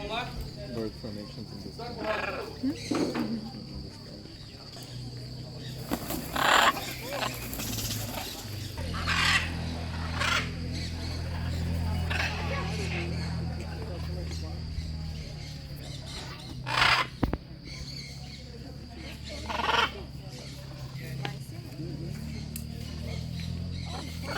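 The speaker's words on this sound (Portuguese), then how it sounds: "A ave fofoqueira do Pantanal também tá aqui. Tem araquã, gralha picaça, arara." Pantanal birds calling on a ranch in Miranda, with chachalacas, plush-crested jays and macaws giving loud raucous squawks and clucking bursts over a constant insect drone, while people talk now and then.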